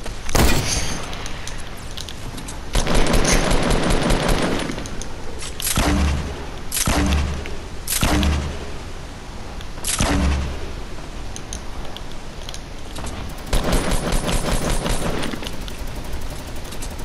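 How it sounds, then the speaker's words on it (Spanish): Bursts of rapid gunfire and heavy booms from battle royale video game weapons, several loud volleys spaced across the clip with brief pauses between. "Mueren o en la tormenta o porque yo les disparo."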